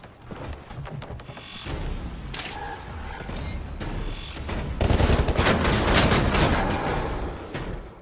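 Gunfire in the shooter game Wolfenstein: The New Order, with a dense stretch of booming shotgun blasts and rattling shots that builds into a loud, continuous barrage.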